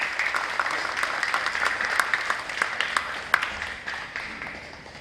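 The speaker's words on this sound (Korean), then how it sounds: "이들에게 힘찬 위로의 박수 한번 보내주시기 바랍니다." An audience claps for a choir at a Korean Presbyterian Day church gathering: steady, moderately loud applause with sharp individual claps standing out, gradually tapering off over several seconds.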